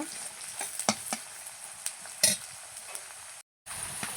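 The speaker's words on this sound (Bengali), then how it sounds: "এইদিকে পেঁয়াজটাকে ভালো করে লাল লাল করে একটু ভেজে নেব" Onions frying in a pan until browned, a low sizzle with scattered stirring scrapes and taps, close and fairly quiet, with a brief gap of silence near the end.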